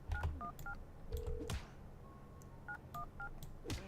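Phone keypad dialing tones in the video game Schedule I: short paired beeps in quick clusters, with a few longer single tones between, fairly quiet over a faint background hum.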